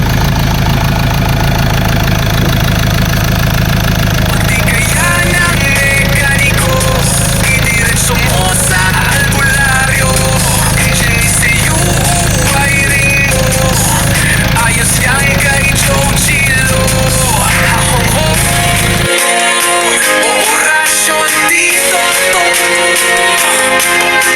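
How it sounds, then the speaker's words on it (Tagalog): Ford Ranger 2.2 diesel engine running loudly and close, a steady rough idle with heavy low rumble and clattering knock that cuts off abruptly near the end, voices talking over it. "Okay, engine start!"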